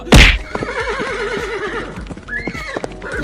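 An angry cartoon horse lets out a long, wavering whinny after a loud thump, with light hoof clip-clops and knocks scattered around it.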